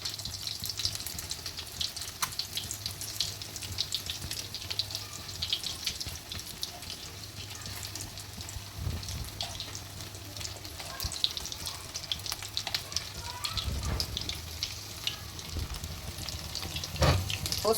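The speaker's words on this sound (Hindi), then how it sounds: "इसको 3 से 4 मिनट हम फ्राई करेंगे क्योंकि सारी चीज़ें ऑलरेडी पकी हुई हैं। सिर्फ हमने इसे फ्राई करना है।" Egg fried rolls fry in oil in a pan, a steady, fairly quiet crackling sizzle that runs the whole time with occasional soft clinks.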